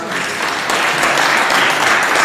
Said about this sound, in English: Can we have a moment of applause, please?